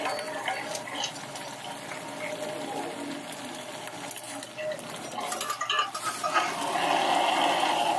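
Water poured into a pan of pumpkin greens, a running, splashing wash with light clinks of utensils against the pan, steady at moderate level and swelling louder near the end.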